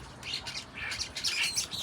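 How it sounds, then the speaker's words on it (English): Birds squabbling at a garden feeder on a UK summer morning, giving a busy tangle of sharp squawks and chirps that overlap without pause, fairly close and moderately loud. "look at these birds. It's fighting in our garden."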